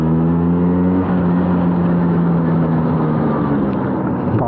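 A 1990 LML Vespa NV two-stroke scooter engine revs loud and close while being ridden, a buzzing drone that climbs and holds in pitch with wind rush over it and no talking.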